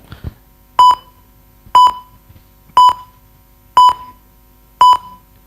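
Auction timer at a badminton league player auction sounds five evenly spaced electronic beeps, each short, sharp and bright, about one second apart, alone with no talk.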